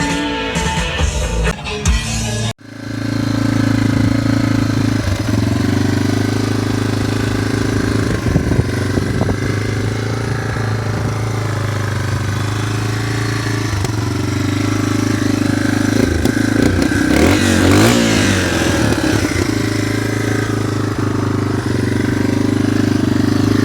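Yamaha TTR 230 air-cooled four-stroke motorcycle engine running loud and close, a steady low throbbing drone after a brief rough start, with small surges in revs.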